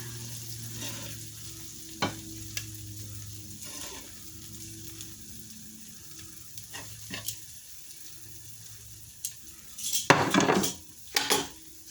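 Tomatoes frying in a pan with a steady close sizzle and hiss, interrupted by scattered clinks of a utensil on the pan and a louder burst of scraping and stirring near the end, with no talking.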